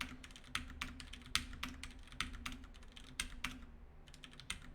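Rapid, irregular clicking of keys on a computer keyboard, close and moderately loud, with steady keystrokes and brief pauses and no voices.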